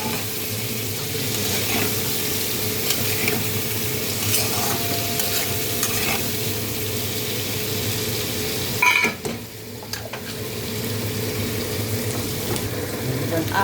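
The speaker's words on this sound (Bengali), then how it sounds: "বেগুনটা ভেজে নেব" Eggplant frying in hot oil, a steady loud sizzle running throughout with occasional stirring clatter, briefly disturbed near the middle, no talking.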